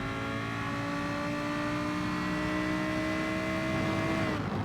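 A Lamborghini in Gran Turismo Sport, its engine holding a steady high whining drone at sustained revs, loud and continuous, before easing off right at the end.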